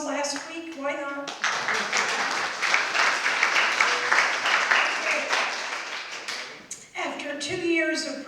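An audience at an island speaker forum breaks into sustained applause, several seconds of dense, steady clapping that swells and fades, with someone speaking before and after.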